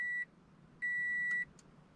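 Two steady electronic tones sound from a Toyota 86 (FRS/BRZ) as ignition power comes on, a short beep then a longer one, clean and high-pitched, with a faint click between.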